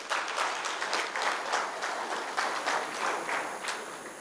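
Audience applause at a regional CMA convention technical session in Bengaluru, a steady dense round of clapping from a hall crowd lasting throughout, fairly loud and even with no talk over it.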